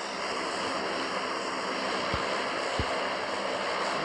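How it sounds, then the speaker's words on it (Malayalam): In-game aircraft flight in PUBG Mobile Lite: a steady, even engine drone with airy whooshing and no variation in level, plus two brief low thumps partway through, with no voices. "അപ്പോൾ ഞങ്ങൾ ഫ്ലൈറ്റ് കയറി യാത്രയാണ്."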